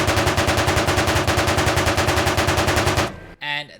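A 7.62 PKMT machine gun fires in the ARMA Reforger video game, a loud, rapid, evenly spaced burst of shots that runs for about three seconds and then cuts off, followed by a short trailing sound.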